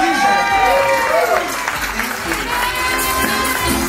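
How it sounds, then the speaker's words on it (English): Audience applause and cheering fill a large ball event in Cebu, a loud, dense crowd roar with whistles and shouts running throughout, with tonal voices riding above it. "Applause for Fuchsia!"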